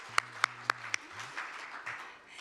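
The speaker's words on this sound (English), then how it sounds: "Yes, a warm round of applause." Four sharp, distinct claps ring out in quick succession at a conference hall event, then trail off into faint scattered noise, fairly quiet overall.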